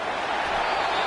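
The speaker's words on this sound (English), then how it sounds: "Listen to this crowd just shaking the girders of this place trying to help their defense." Crowd noise roars steadily in a college football video game stadium, a dense, continuous wash of cheering from a packed home crowd that holds loud and unbroken for about a second.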